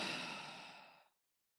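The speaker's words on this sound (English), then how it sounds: "Make as much noise on the exhale as you need to." A single long, loud, breathy exhale out through the mouth during a morning yoga breathing exercise, close and airy, fading smoothly into silence.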